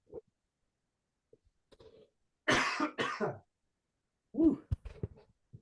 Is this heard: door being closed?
no